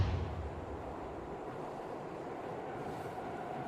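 A train rumbles steadily along the rails, a low continuous roar with faint rhythmic rattling, heard from inside a carriage at moderate volume with no talk.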